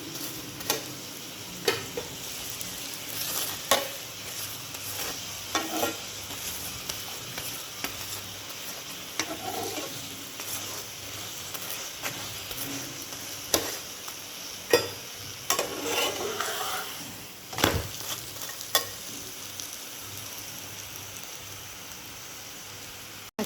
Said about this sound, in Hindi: इस तरह से इसको धीमी आंच में सेक ले, थोड़ा सा और घी लगाकर।